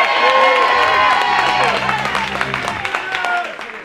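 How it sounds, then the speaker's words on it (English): Audience applause and cheering for a volunteer named Rocky at a magic show on an open stage, a loud crowd clapping steadily and then thinning into scattered claps, with some speech over it. "A round of applause for Rocky"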